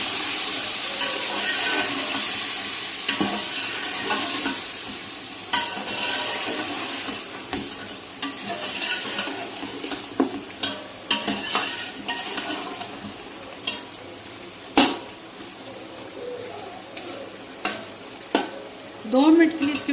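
Spices, salt and coriander are stirred into chicken pulao frying in a pot, giving a continuous loud sizzle with scraping spoon strokes and intermittent clanks against the pan.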